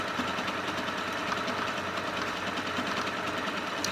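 A Singer 8500Q sewing machine running steadily, a fast even mechanical whirr with a rapid stitching rhythm, close and continuous with no talking.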